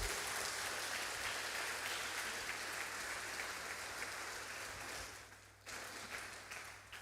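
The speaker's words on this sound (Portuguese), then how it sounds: "Você pode dar uma salva de palmas para o Senhor Jesus." A church congregation applauds, producing continuous dense clapping that holds steady and then thins slightly toward the end, with no talk over it.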